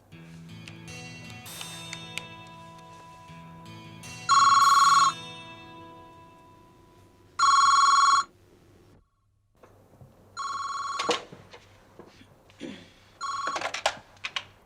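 A telephone rings in repeated loud electronic bursts, several distinct rings separated by pauses, over quiet background music.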